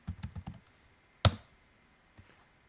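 Short burst of computer keyboard typing, four or five quick keystrokes, then a single louder key press after a pause and one faint tap, close and quiet in an otherwise silent room.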